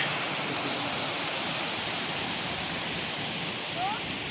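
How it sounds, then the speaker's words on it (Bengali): Water rushing out of the lower dam at Topchanchi Lake in Jharkhand, a loud, steady roar of flowing water that fills the whole clip without a break. "তোপচাঁচি লেক লোয়ার ড্যাম জল এখান থেকে বেরোচ্ছে"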